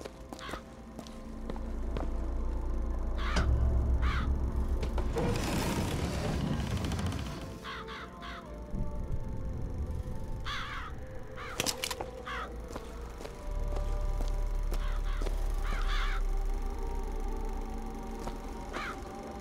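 Crows caw repeatedly in the video game BioShock Infinite, sharp calls recurring at intervals over a steady ambient rumble, with occasional footsteps and a louder burst of noise midway.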